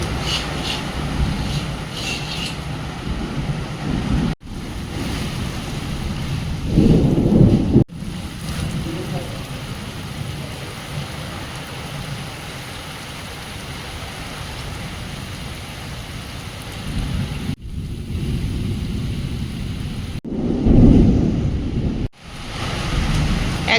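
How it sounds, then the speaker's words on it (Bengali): Heavy rain pours steadily during a thunderstorm with lightning, a dense roar broken by louder rumbling swells, while a voice speaks now and then. "বাবা কি বিদ্যুৎ চমকাচ্ছে, ওরে বাবা কি বড় বড় বৃষ্টির ফোঁটা পড়ছে।"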